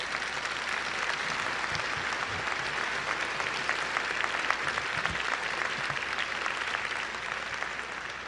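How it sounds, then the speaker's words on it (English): Sustained, loud applause from a large commencement crowd at a law school graduation ceremony, honoring the graduates' families; dense steady clapping fills the whole stretch with no speech over it. "Please give them a big round of applause."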